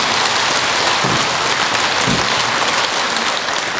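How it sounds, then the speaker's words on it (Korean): A crowd applauds a Buddhist monk during a temple pilgrimage ceremony, a loud, thick, rain-like clatter of many hands held steady throughout, with a couple of low thumps underneath. "시민을 대표해서 우리 월도 스님께 박수를 청하도록 하겠습니다."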